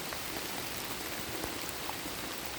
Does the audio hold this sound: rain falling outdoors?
yes